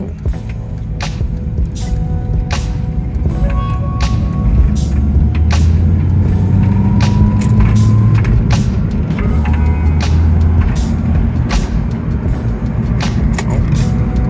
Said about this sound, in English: I tried to gun it going back this way to back to town